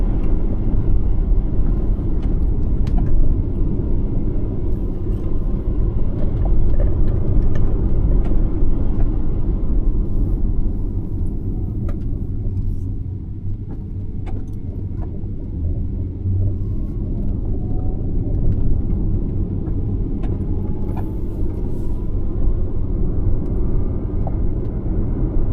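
Tesla Model 3 Performance driving on the road from Bangkok to Doi Ang Khang, heard from inside the cabin as a steady, heavy low road rumble that dips slightly midway and swells again.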